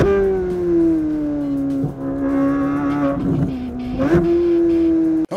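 Chevrolet Corvette ZR1 engine, a turbocharged V8 supercar, heard as a loud sustained droning exhaust note that holds steady, dips slightly and rises again, with a sharp cutoff at the end.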